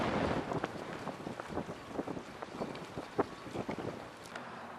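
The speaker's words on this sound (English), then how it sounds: "The wind is blowing extremely hard right this minute, so it's hard to hold this camera steady." Strong wind buffets the microphone at a harbor in Newport, Rhode Island, a continuous rough roar with uneven gusts and faint knocking underneath, with no voices.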